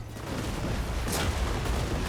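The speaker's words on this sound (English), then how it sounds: "I'm still enjoying those Hellblasters firing away." Hellblaster volley guns in Total War: Warhammer 3 fire in a dense, continuous rumble of battlefield gunfire, a steady loud roar with a sharper crackling burst near the middle.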